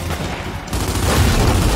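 Weapon fire in the video game Gears 5, a dense, loud burst of rapid gunshots rumbling continuously and swelling in intensity toward the end.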